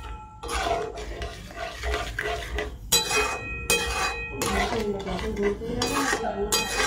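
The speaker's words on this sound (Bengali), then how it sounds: "একটু ভালো করে নেড়ে চেড়ে নিই।" Vermicelli kheer with sugar stirred in a pot, with repeated close metallic scraping and clinking of a spoon against the pot in uneven bursts.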